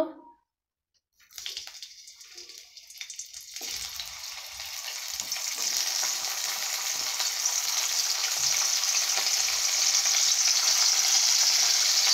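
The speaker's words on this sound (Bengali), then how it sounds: "এরপর পেঁয়াজগুলো ভালো করে ভেজে নেব।" Onions hit hot mustard or vegetable oil after a brief silence. A loud, bright sizzle rises and settles into a continuous, intensifying hiss of frying close by.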